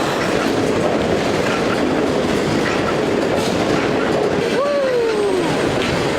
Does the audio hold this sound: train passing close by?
yes